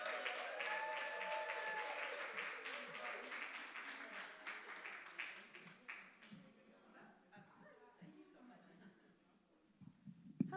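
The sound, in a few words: audience applauding and cheering for a speaker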